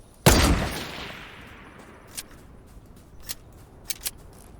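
A single loud, close sniper rifle shot in Fortnite cracks out and rolls away in a long decaying echo, followed by a few faint, sharp clicks.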